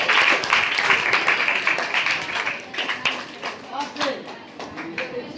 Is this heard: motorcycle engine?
no